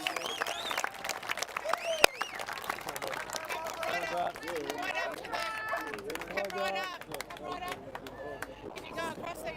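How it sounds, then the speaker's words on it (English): Crowd applause at a rowing regatta for the champion crew, Marlborough Boys College, dense clapping and cheering mixed with nearby voices and announcer-style talk throughout. "Big round of applause, please, for our champions, Marlborough Boys College."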